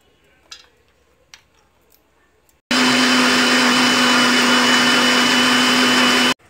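After a few light clicks and taps, a mixer grinder starts abruptly and roars loud and steady for about four seconds, grinding chilli, garlic, ginger and tomato into masala, then cuts off.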